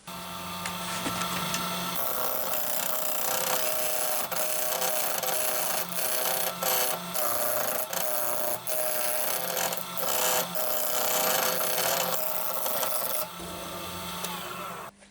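Wood lathe turning a wooden goblet, a loud, steady broadband whir and scraping of tool on spinning wood running continuously, with brief dips where the cut eases before it stops near the end.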